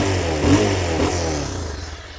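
A 2021 Bajaj Pulsar 220F BS6 motorcycle revs up close, its exhaust rising to a throaty peak and then settling back toward a rumbling idle.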